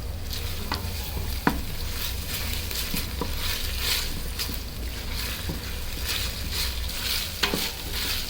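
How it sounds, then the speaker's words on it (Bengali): Ginger paste frying in a pan with onion and garlic cloves for khichuri, a steady close sizzle broken by sharp scraping clicks of a spoon stirring throughout, with no voices. "আদা বাটার কাঁচা স্মেল চলে যাওয়ার আগ পর্যন্ত ভালো করে নেড়ে ভেজে নিতে হবে।"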